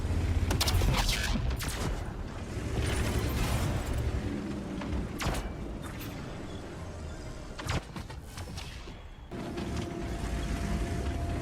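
Rapid bursts of gunfire with sharp cracks and scattered single shots over a constant noisy background, loud throughout.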